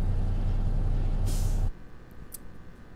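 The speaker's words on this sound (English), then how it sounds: "Put that trailer brake on, very important" A truck trailer's air brake is set in American Truck Simulator. It gives a loud, close burst of hissing air that cuts off abruptly after about a second and a half, leaving a quieter low idle with a couple of faint clicks.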